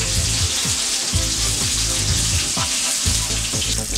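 Hilsa fish pieces, including the tail, frying in oil for a Bengali mustard curry: loud, steady sizzling and crackling up close, with occasional scrapes and spatters, no talk.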